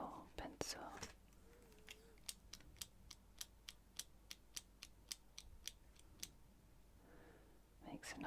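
Mechanical pencil clicked repeatedly at close range, about a dozen sharp, evenly spaced clicks in a steady rhythm, between soft whispered words at the start and end.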